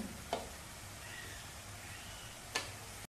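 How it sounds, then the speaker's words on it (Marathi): Ground spice masala sizzles steadily in hot oil for a Marathi modak amti curry, a soft continuous hiss broken by two sharp clicks of a spoon against the pan, with no voices. "तेलामध्ये वाटलेला मसाला चांगला मिनिटभर परतवून घेतलेला आहे."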